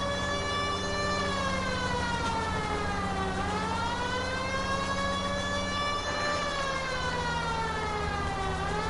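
Police car siren in a video game wails continuously in slow rising and falling sweeps, loud and close over a low engine drone, with no talking.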